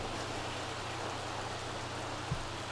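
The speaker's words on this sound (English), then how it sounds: "It's raining upstairs." Steady, soft rain patters continuously in The Sims 3 Island Paradise, an even wash of faint noise with a slight low hum underneath.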